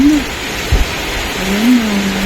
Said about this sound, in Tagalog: Lakas na ng ulan na